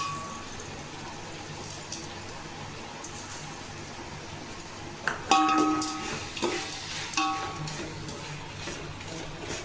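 Coconut rice ingredients frying in oil in a pan, a soft steady sizzle throughout with scraping stirring strokes and clinks joining halfway, close and moderately quiet.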